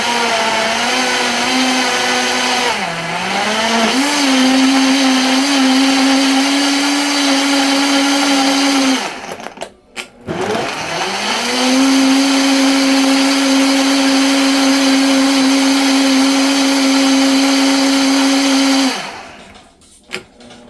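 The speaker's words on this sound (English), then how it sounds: "we're gonna blend, and guys, do bear with us with the noise" A blender whirring through blueberry lemonade, loud and close, running in two long steady bursts with a rising spin-up at each start and a brief pause between, then winding down.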